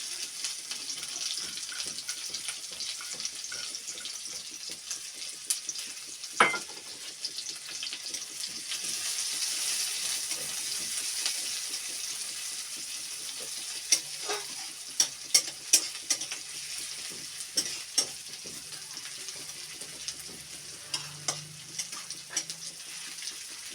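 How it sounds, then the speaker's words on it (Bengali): Chopped onions sizzle in a pan with a continuous frying hiss, broken by sharp scraping and tapping as a spatula stirs them, close and steady throughout. "এই পেঁয়াজটা হালকা হালকা লাল লাল করে।"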